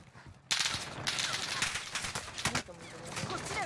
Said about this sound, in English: That was some heavy ass fire.